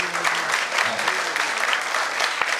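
Audience applause fills a pilgrimage tour gathering, a steady dense clapping from a crowd that holds for the whole stretch without pause.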